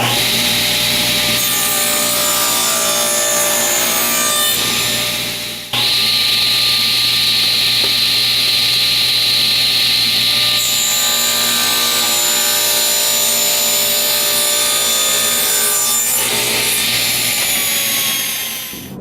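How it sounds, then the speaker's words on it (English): A table saw trims wood into a rectangle for a kitchen drawer, cutting steadily and loudly with a sustained whine that shifts in pitch as the blade works through the board, with no voices. "trim it on the table saw into a rectangle"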